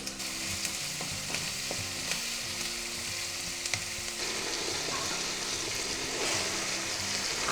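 Something fries for a biryani topping in a pan of hot oil, a constant sizzle with scattered stirring clicks and scrapes, close and alone without talk.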